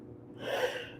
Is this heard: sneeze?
yes